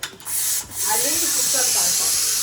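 Sharp, bright hiss of a faulty pressure cooker venting steam, starting in short bursts then settling into a steady loud high rush, close by with voices faintly around it.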